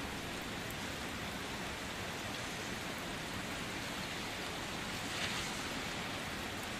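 Steady, dense rainfall hisses evenly throughout, a constant wash of drops with no breaks or voices, serving as calm background ambience.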